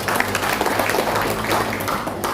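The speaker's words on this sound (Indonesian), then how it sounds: "Tepuk tangan itu." Loud applause from an audience of civil servants at a staff briefing, continuous and close, with voices mixed in underneath.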